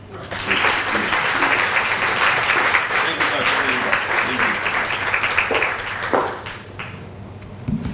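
An audience applauds steadily throughout to welcome a speaker at a welcome and pinning ceremony, a dense, loud clapping that fades slightly toward the end.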